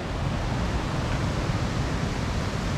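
A constant broadband rush of falling water from waterfalls at a swimming hole roars evenly throughout, dense and unbroken, with no voices.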